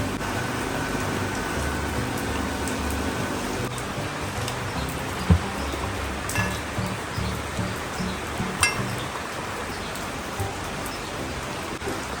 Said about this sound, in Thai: ที่นี่ฝนตกนะครับ แรงด้วย